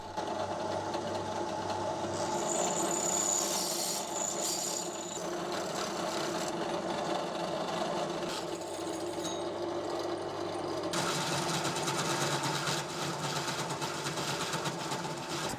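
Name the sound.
50 mm hole saw cutting on a lathe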